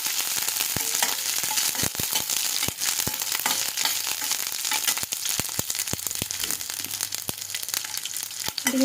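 Garlic cloves, dried red chilies, cumin and mustard seeds fry in hot oil for ajwain rice, a loud, continuous close sizzle broken by sharp clicks and scrapes of a spoon stirring the pan.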